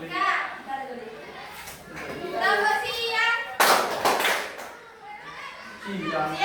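A group of children chants in unison and claps along with the rhythm. A dense burst of clapping rises briefly in the middle, mixed with their young voices and close chatter.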